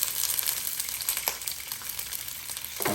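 Green vegetables sauté in a hot pan of a Power XL cooker, giving a steady, close hiss of frying broken by a few soft clinks and stirring scrapes, with no talk.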